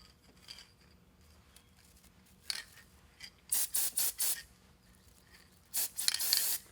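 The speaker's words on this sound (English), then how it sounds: "we're going to use this Elmer's spray adhesive and just spray these cut edges" Short hissing bursts of an Elmer's spray adhesive can sprayed on cut wreath edges, a few isolated puffs followed by a rapid series of four sprays and a longer final blast, close up.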